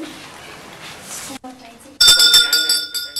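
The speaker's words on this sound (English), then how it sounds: "Once he waves the bell and starts chanting mantra, puja starts." At a Hindu puja in Nepal, a small hand bell is rung in a bright, repeated ringing burst that follows a quieter stretch where a voice is heard.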